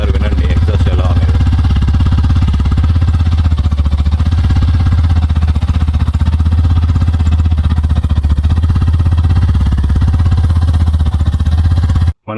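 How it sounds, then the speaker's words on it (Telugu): A Hero Glamour X motorcycle idles in a showroom, its exhaust note a loud, steady, close-up low thrum with a fast even pulse throughout, cut off abruptly at the end. "ఒకసారి వినండి, ఎగ్జాస్ట్ ఎలా అనేది."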